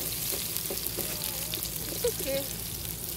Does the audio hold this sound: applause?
no